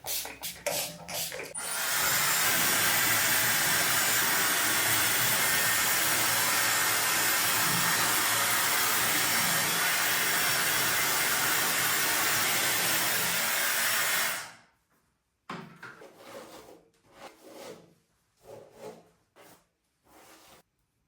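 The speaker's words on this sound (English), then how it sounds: "For today I'm just gonna use the heat protection and then I am gonna blow dry it." Hair dryer blowing hair dry after heat protectant is applied, a loud, steady close-up whoosh that runs for about twelve seconds and then cuts off, followed by scattered handling noises.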